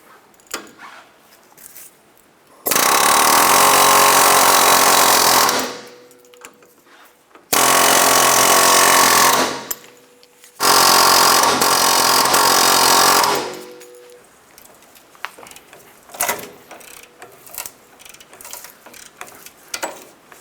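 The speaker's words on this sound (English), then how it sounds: "We used an air hammer, tried to push it out." Air hammer hammering against a stuck, heated and penetrant-soaked strut bolt on a 2000-2006 Toyota Tundra, three loud sustained bursts of rapid pounding separated by short pauses, followed by quieter clanks and ticks of tools.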